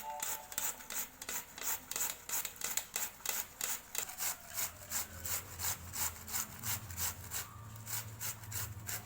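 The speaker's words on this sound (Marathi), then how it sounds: "हे सर्व बीट आता आपण किसून घ्यायचे आहे" Beetroot is grated by hand on an old, sharp grater in steady, rhythmic rasping strokes, close and fairly loud, with no talking.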